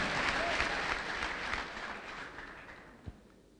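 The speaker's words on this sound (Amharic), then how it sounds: "አጨብጭቡ ለጌታ" A church congregation clapping for the Lord during a prophet's service: dense, sustained applause from a crowd, gradually fading, with a few isolated claps near the end.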